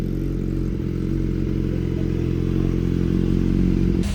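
A BMW S1000RR sport motorcycle runs steadily and loud up close, its low engine drone continuous throughout with faint clattering mixed in and no talking.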